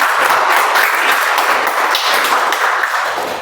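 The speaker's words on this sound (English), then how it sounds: "Let's give a good round of applause to it." Applause from a Toastmasters meeting audience, a brisk burst of many hands clapping close and loud, tapering slightly toward the end with no talk.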